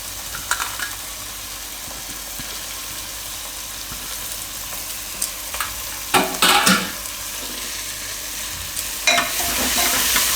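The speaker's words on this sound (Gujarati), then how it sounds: "આમાં પાલક નાખી દઉં આપણે." Spinach goes into a sizzling tempering of cumin and red chilli in a pan. A continuous close sizzle flares into louder hissing bursts and stirring scrapes as the leaves hit the hot oil.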